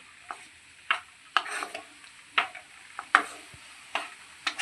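Cashews fried in ghee are stirred into a healthy breakfast dish, a spoon scraping the pan in repeated short strokes with a faint sizzle underneath, close and fairly quiet, no voices.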